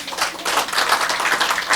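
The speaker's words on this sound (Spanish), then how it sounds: "Un aplauso al Señor." Church congregation claps for the Lord in a lively, sustained round of applause, dense, uneven and close.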